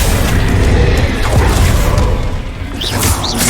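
A Confringo explosion spell in the video game Hogwarts Legacy, a loud, booming blast with crashing rumble and debris, dense and close, fading slightly before a whooshing swell near the end.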